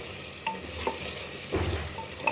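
Potatoes sauté in a pan for a beef curry, a steady close sizzle of frying with a few soft scrapes and knocks from stirring.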